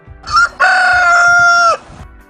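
A rooster gives one loud, close crow: a short opening note, then a long sustained call that cuts off sharply. Soft clucking follows in the quiet moments around it.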